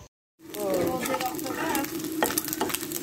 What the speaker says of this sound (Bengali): এখানে খলিশা মাছ ভেজে নিচ্ছি।